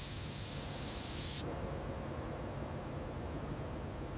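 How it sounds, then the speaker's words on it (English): Spray gun applying a base coat to a Toyota Supra MK-5 body in a factory paint booth, a loud close hiss that cuts off sharply, leaving a low steady room drone. "the first base coat is applied with absolute precision."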